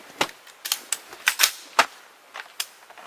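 A rifle fires 5.56 full metal jacket rounds at a ballistic barrier, giving about a dozen sharp, loud cracks in quick irregular succession, heard alone with no voices.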